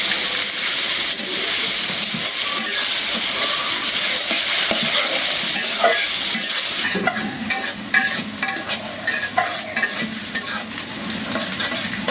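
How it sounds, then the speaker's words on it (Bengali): Onions sizzle and crackle steadily as they fry in hot oil until crisp and browned, a dense continuous hiss with occasional stirring clatter, close and fairly loud with no voices. "পেঁয়াজের ভোনা তো পেঁয়াজ একদম বেরেস্তার মতো ভাইজে নিব"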